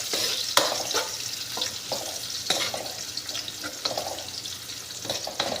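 Chili fries in a pan for adobong manok, a soft continuous sizzle broken by repeated clinks and scrapes of stirring, up close and without talk.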